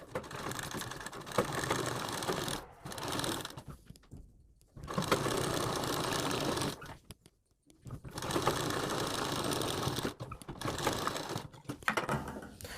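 Sewing machine stitching sleeve fabric, close, loud runs of rapid needle chatter in three long bursts separated by short pauses.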